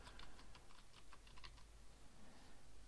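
Quiet clicking of fingers typing a short folder name on a computer keyboard, a brief run of soft key taps over a steady low hum, no voices.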